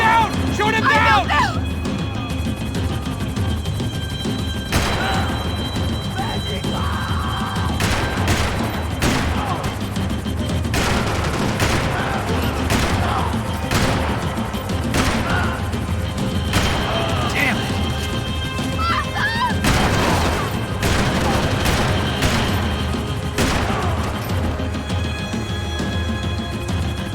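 Gunfire bursts crackle through a tense chase cutscene in Max Payne 3, with repeated sharp shots over a dense background of engine roar, crashes and music while voices shout orders.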